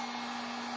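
Heat gun blowing a steady, loud whooshing stream of hot air to shrink wrap around a small sublimation pen, a continuous drone with a low hum, no voices.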